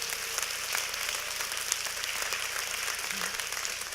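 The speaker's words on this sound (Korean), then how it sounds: "박수 한번 주시죠." A lecture audience at a Korean talk event gives quiet, fairly distant applause, with a soft, continuous patter of clapping that lasts the whole moment.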